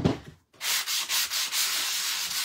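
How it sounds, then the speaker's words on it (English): Light hand sanding over a painted surface to smooth out brush marks, a steady abrasive rubbing in close, rhythmic back-and-forth strokes with brief dips between passes, after a short pause near the start. "Okay, so I'm just going to do a little sanding in here, get the brush marks out."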